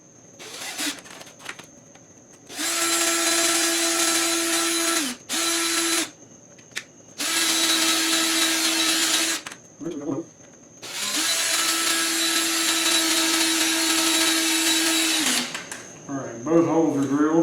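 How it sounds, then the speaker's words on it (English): Power drill boring holes with a 7/64 bit into a 1965 Impala SS during an air conditioning install, several sustained whining bursts of steady motor pitch separated by short pauses, loud and close. "Alright, both holes are drilled."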